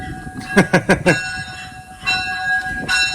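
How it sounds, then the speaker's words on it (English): A railroad locomotive bell at a railroad museum, struck four times in a quick even series, loud and close, then ringing on more faintly under low background noise. "Uh-oh, is that the bell? Let's hear it."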